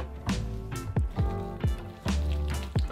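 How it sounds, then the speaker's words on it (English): Artichoke dip with grated Parmigiano Reggiano being stirred until creamy, giving a run of close, wet squishing strokes at a steady rhythm, loud and alone. "And then just mix it all together until it's thoroughly combined and creamy."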